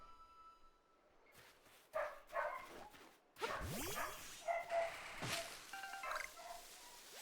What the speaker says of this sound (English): All the dogs being loud all the time.